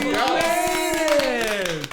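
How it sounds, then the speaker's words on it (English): Small live studio audience clapping for a podcast guest, a quick run of claps heard under a sustained, sliding voice that keeps going throughout. "Let's give a round of applause."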